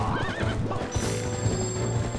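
Ghost horses neigh and whinny in the video game Zelda: Twilight Princess HD, a wavering cry over steady galloping clip-clops, loud and close with a sustained tonal ring behind.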